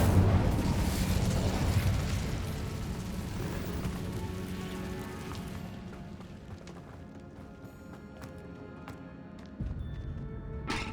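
Incendio fire spell cast in the video game Hogwarts Legacy, a loud roaring burst of flame and crackle that fades over several seconds, followed by a fresh low surge near the end.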